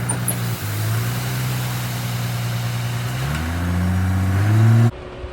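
Concrete truck engine running steadily at a sidewalk pour site, a loud, continuous drone whose pitch steps up as the motor revs higher, then cuts off abruptly near the end.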